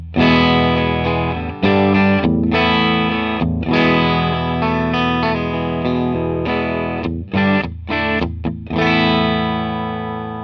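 An electric guitar played through an Archer clean boost pedal rings out in loud chords and sustained notes with a gritty, driven edge, broken by short pauses between phrases.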